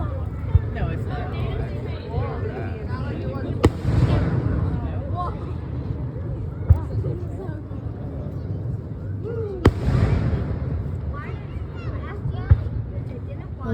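Fireworks burst at a public display, with a couple of sharp, distant booms and scattered crackles heard under the steady chatter of a nearby crowd and people talking.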